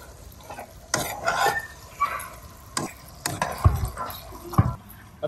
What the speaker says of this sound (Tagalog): At least 1 minute na pagpapakulo nito ay magiging okay na ang ating ginawang sauce.